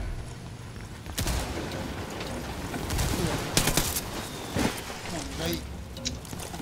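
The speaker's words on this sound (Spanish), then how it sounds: "Es automática, boludo, la escopeta" Rapid repeated blasts from an automatic shotgun in the Ghost Recon video game, sharp close shots over busy battle noise while someone talks.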